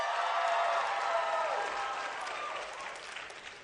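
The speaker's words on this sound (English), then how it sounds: "Round of applause if you are under the age of 25." An audience at a comedy show breaks into sustained applause, loud and dense at first, then gradually thinning and fading over a few seconds.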